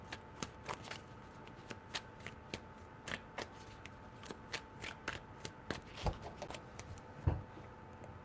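Soft, quiet shuffling of tarot cards: repeated crisp riffles and taps at an irregular pace, close by, with no talking.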